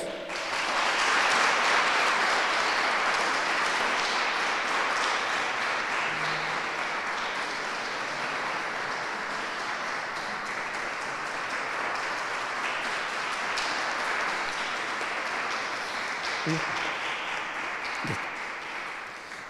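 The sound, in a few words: audience applause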